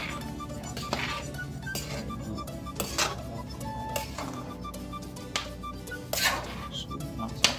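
A pot of native chicken soup being stirred, with repeated clinks and scrapes of a utensil against the metal pot and light chinking at an uneven rhythm, close by.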